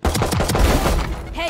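Dense automatic gunfire in the VALORANT shooter game, loud and close, with rapid overlapping shots and a brief voice at the end.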